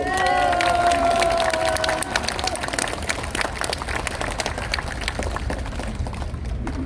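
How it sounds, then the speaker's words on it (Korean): An audience at a podcast recording on education claps and cheers, a sustained patter of applause with a raised voice audible at the start, continuing steadily to the end. "다시 한번 큰 박수 한번 부탁드립니다"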